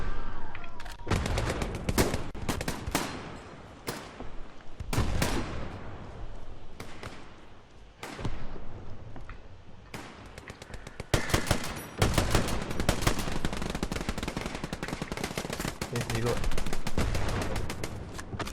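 Gunfire in the World War II shooter Hell Let Loose: dense bursts of rifle and machine-gun shots crack close and loud throughout, with a short lull in the middle, while a player talks briefly over the shooting.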